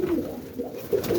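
Young pigeons in a loft, some going through a molt, coo softly in a few low, repeated calls that rise and fall across the moment, with no talk over them.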